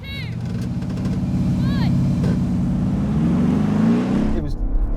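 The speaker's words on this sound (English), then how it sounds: "let's just crack on with the drag race" New and old Mercedes-AMG G63 SUVs launch side by side in a drag race, their loud V8 engines roaring steadily throughout and rising in pitch as they accelerate, with brief voices over the engine noise.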